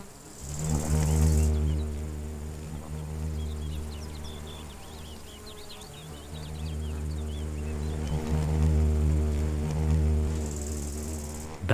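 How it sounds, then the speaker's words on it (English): A rare poppy mason bee in a cornfield, giving off a steady, harmonic buzz that swells and fades close by, with faint chirping in the background. "This visitor is an extremely rare insect, the poppy mason bee."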